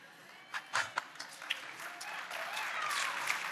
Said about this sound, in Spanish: ese aplauso fue como de golf